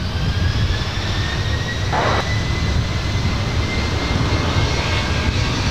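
Jet airliner taking off from runway 24 Left at LAX: a loud, sustained engine roar with rising whine tones, heard from nearby for the whole stretch with no talk.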